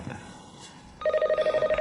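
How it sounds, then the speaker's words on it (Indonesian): After a second of quiet room tone, a telephone starts ringing nearby: a bright electronic trill that pulses in quick, even bursts until the end. "Maaf, Menerima telepon."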